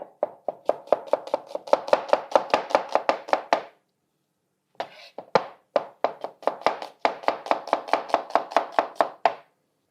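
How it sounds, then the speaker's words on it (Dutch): A knife chops red onion and garlic on a board in a quick, steady run of crisp close thunks, then breaks off briefly before a second rapid burst. "Dat doen we eerst eventjes een rood uitje en een knoflook snijden."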